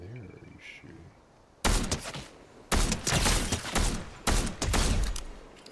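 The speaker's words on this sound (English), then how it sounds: "I'm getting shot at again." Gunfire in the video game Fortnite: several loud, sharp bursts of shots come in quick clusters, with quieter game ambience between them.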